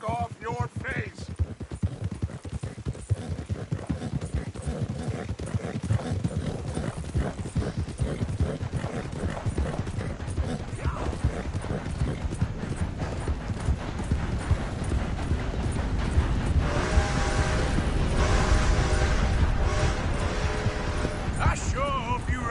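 Horse hooves clip-clop steadily at a walking pace in Red Dead Redemption 2, a continuous close rhythm running under occasional male dialogue and low ambient game sounds.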